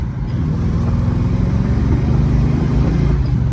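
A 1967 Chevrolet Camaro RS/SS with a small-block Chevy V8 revs up close and loud, a deep steady rumble building slightly and holding with no one talking.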